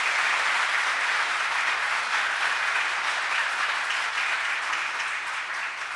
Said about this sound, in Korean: 최재부 교수님께 다시 한번 큰 박수 부탁드리겠습니다